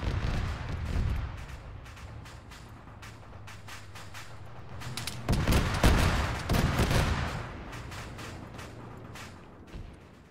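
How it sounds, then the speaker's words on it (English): Gunfire in Arma 3 mechanized combat, bursts of rapid shots and heavy booming reports, with denser volleys near the middle and a low rumbling vehicle drone underneath. "He's now opening fire."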